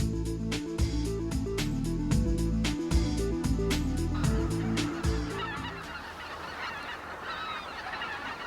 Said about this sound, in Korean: 호수 주변 물가는 새들의 천국이다